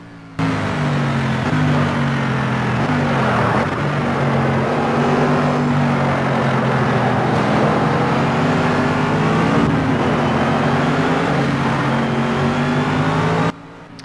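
A Le Mans race car in the Project Cars video game holds nearly 200 mph, its engine a loud, sustained high-speed drone with shifting pitch and no voices.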